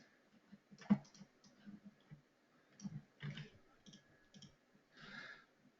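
Irregular computer keyboard keystrokes clatter in short bursts and single taps, close and fairly quiet, against a near-silent room with no speech.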